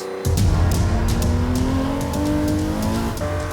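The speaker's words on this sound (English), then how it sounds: "The 5-litre 12-cylinder engine produces 621 horsepower, which is modest by the standards of today's road-going hypercars." A Porsche 917 racing car with a 5-litre 12-cylinder engine accelerates hard, its loud, close engine roar climbing steadily in pitch through gear pulls with no break.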